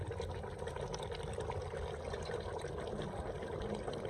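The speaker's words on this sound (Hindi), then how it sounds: "अब इस मौके पे मैं इसमें थोड़ा सा पानी शामिल करने लगा हूँ ताकि ये अच्छे तरीके से गल जाएं" Water poured into a starling karahi on the stove while cooking, a soft, steady pouring and sizzling trickle, faint and continuous for a few seconds.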